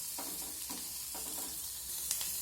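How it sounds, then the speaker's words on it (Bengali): Chopped onions frying lightly in a pan, a soft, steady sizzle close by, broken by a few gentle stirring scrapes. "পেঁয়াজটাকে হালকা করে ভেজে নিতে হবে, একদম বাদামি কালার করে ভাজার প্রয়োজন নেই"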